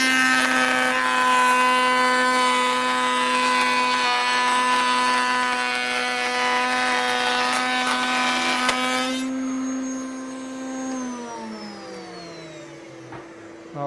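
A power saw runs loud and steady with a bright whining tone while cutting a wood piece held in a sled, then the cut ends and the blade winds down, pitch falling over several seconds until it stops.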